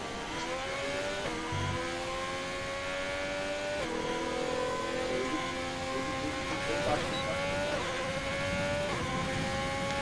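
A race car engine in a driving simulator at the Interlagos circuit drones steadily and close, its pitch climbing through gears and dropping at shifts again and again, with no talking over it.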